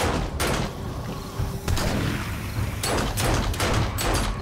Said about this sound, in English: Using the worst shotgun in the world.